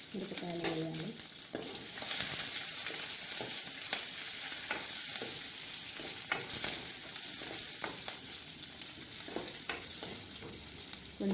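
Chillies fry in a pan for Telangana-style chickpea curry, a steady bright sizzle with occasional scraping stirs and a brief clatter at the start, no talking.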